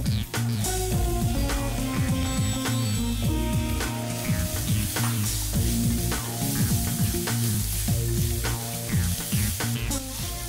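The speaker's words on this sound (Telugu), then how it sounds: "క్యాప్సికమ్ కొంచెం కలర్ చేంజ్ అయ్యే కుక్ చేసుకోవాలి" Capsicum sizzles and fries in hot ginger garlic paste with a continuous crackling hiss, punctuated by frequent stirring clinks and scrapes of a utensil against the pan, close and loud with no talk.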